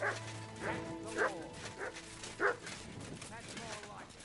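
A dog in the medieval game Kingdom Come Deliverance 2 gives about five short yips and barks at a steady pace, close and clear, with someone speaking over the start.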